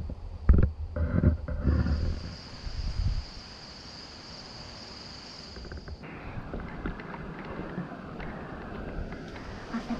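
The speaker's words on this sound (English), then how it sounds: "All you hear is crickets." Crickets chirp in a steady high-pitched drone across a pasture at night, with a few low bumps and rustles near the microphone at the start and faint outdoor ambience afterward.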